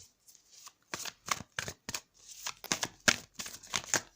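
A deck of oracle cards is shuffled by hand in quick irregular bursts of crisp riffling and slapping, close and clear, with no speech.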